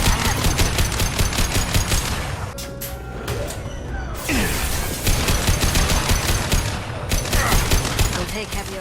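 Rapid automatic gunfire in the sci-fi shooter Mass Effect 2, dense bursts of machine-gun fire with a brief lull and a few sharper impacts before the shooting resumes, loud and close throughout.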